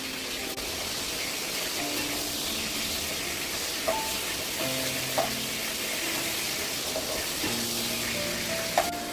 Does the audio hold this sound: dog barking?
no